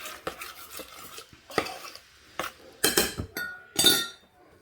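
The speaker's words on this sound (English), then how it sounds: "So we're going to give this a good stir." A spoon stirs food in a pot, making repeated scraping and clinking metal strokes in irregular bursts, close and clear with no talk.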